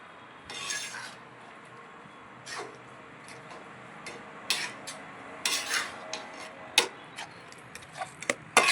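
Carrot halwa stirred in a pan with a utensil: soft scraping and rubbing strokes with intermittent clinks against the pan, faint and close, growing more frequent, with no talking.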